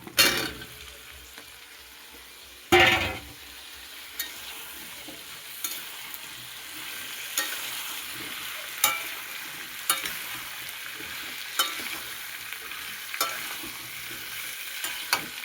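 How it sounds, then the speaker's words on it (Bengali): Chicken and potatoes fry together in a pan with a low continuous sizzle, while a spatula scrapes and stirs in regular strokes every second or so, with one loud clatter near the start. "এর মধ্যে আলুটা বন্ধুরা একসাথে ভেজে নেবো"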